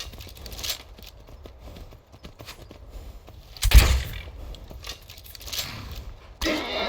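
Horse hooves clopping in Skyrim, heard as irregular soft thuds and clatter at moderate distance, with one sharper impact partway through and a louder burst of noise near the end.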